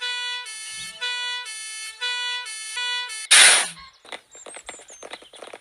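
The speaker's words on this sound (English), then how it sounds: "Sounds like the fire engine's coming now." A fire engine siren wails in repeated rising and falling tones, then a loud blast of horn, followed by scattered clatter and faint voices.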